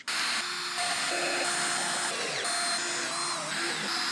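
A power drill whines steadily while driving screws into a homemade wooden toolbox, a continuous close, loud motor drone with slight shifts in pitch as the load changes.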